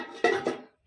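A metal lid set down onto a cooking pot holding hilsa and paneer for steaming, giving two close clanks about a quarter second apart with a short ring after each, and no voices.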